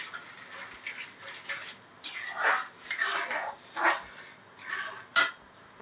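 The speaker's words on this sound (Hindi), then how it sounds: "तो 1 कटोरी सूजी के साथ हम 1 कटोरी चीनी डालेंगे और इसको हम लगातार चलाते रहेंगे।" Semolina halwa with sugar is stirred in a pan, with repeated scraping and rubbing strokes of a spoon against metal, close-up, some stronger than others, and no talking.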